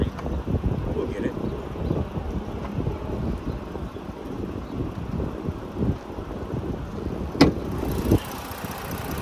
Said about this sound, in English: Motor idling good.